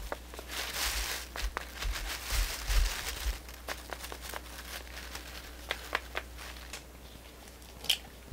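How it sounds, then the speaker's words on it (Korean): A plastic bag holding flour and kabocha squash pieces is shaken, giving close crinkling and rustling with scattered soft taps and thumps in irregular bursts, with no voices. "봉지에 밀가루를 넉넉하게 담고 단호박을 넣어 봉지를 흔들어 단호박에 밀가루를 골고루 묻혀요"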